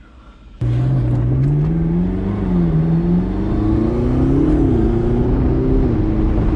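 A McLaren sports car engine suddenly roars to life and holds a loud, steady rev, its pitch rising and falling gently as it drones on.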